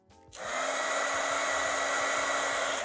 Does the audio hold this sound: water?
no